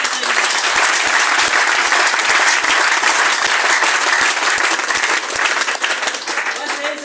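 A large audience applauds loudly and continuously at a motivational seminar, dense clapping filling the whole stretch with cheers and voices mixed in, tapering slightly at the end.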